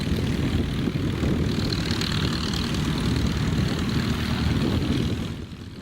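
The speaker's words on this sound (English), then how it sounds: "The historic aircraft are rolling up too." Historic propeller aircraft at Old Sarum airfield rumble steadily at moderate distance, a continuous droning engine roar that holds even before fading slightly at the end.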